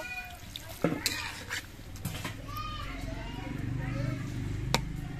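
Small fish frying in a pan get a splash of broth and are stirred, a steady low sizzle with several sharp utensil clinks and scrapes, close and quiet, while faint voices murmur in the background.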